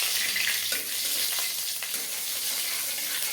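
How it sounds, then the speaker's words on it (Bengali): Five-spice seeds and a dried red chilli fry in hot mustard oil in a kadai, a steady close crackling sizzle with a few spatula scrapes and no voices. "আমি কড়ার মধ্যে সর্ষের তেল দিয়ে দিলাম, 5 ফোড়ন দিয়ে দিলাম, আর একটা শুকনো লঙ্কা দিয়ে দিলাম"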